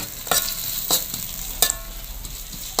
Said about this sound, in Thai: นี่เราก็ผัดจนหอมแล้วก็ตอนนี้ก็สุกแล้วนะคะ